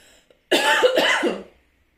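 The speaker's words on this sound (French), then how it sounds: "pardon, je vais tousser." A single close, harsh cough burst lasting about a second, following a brief faint sound, then silence.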